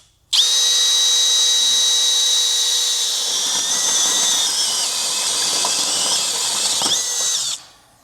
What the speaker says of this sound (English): take an 1¼ inch hole saw, and we'll go right on our mark and we'll get a hole drilled out